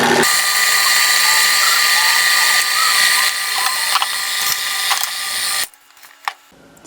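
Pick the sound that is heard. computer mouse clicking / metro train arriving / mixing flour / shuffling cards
mixing flour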